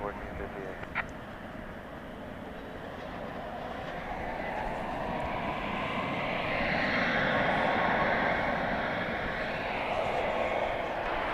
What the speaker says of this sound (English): There's Alaska Airlines Flight 575. That's a MAX 9 off to Seattle.